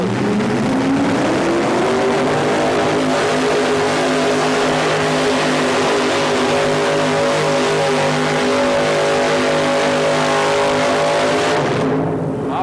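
A pulling tractor at a 1987 international pulling series event roars at full throttle while dragging the sled, a loud, sustained engine howl with pitch slowly climbing throughout before cutting off abruptly at the end.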